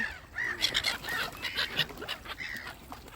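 Several ducks quack repeatedly nearby, overlapping nasal calls in irregular bursts over a soft outdoor background.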